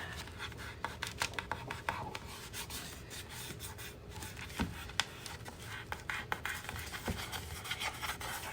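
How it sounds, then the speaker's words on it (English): Close, quiet rubbing and scraping as vinyl lettering is burnished down around the openings of the letters, a continuous gritty friction with small ticks and scratches throughout. "I'm burnishing around the openings to the letters"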